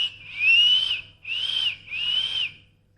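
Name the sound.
whistling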